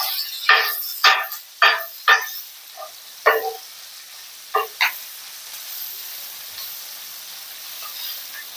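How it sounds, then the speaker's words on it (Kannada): Thick-cut onions sizzle in a pan on a tawa for tomato pulao, with a string of sharp hissing bursts as they are stirred, then a quieter, steady low fry. "ಈರುಳ್ಳಿನ ಸ್ವಲ್ಪ ಬಾಡಿಸ್ಕೊಳ್ಬೇಕು"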